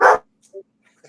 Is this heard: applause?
no